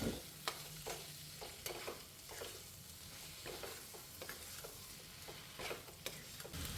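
Masala with tomato frying in a pan for a Kerala-style prawn dish sizzles softly while a spoon stirs and scrapes in repeated strokes, close and fairly quiet.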